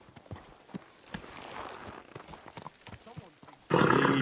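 Horse hooves clip-clop at a slow walk in Kingdom Come: Deliverance 2, faint, irregular thuds beneath a voice talking, before a loud burst of noise closes the moment.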